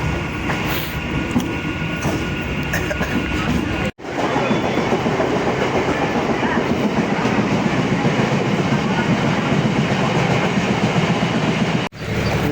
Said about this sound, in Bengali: বজবজ থেকে আমাদের ট্রেন ছাড়লো।